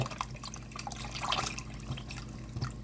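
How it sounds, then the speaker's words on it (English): Carton of broth pouring into a soup pot for Asian chicken soup, a steady liquid splash and gurgle with scattered drips, close and continuous for about three seconds. "Going in with that other carton of broth."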